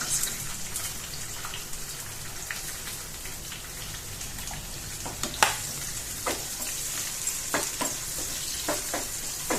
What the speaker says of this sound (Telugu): వేడెక్కిన తర్వాత ఎర్రగడ్డ వేయాలండి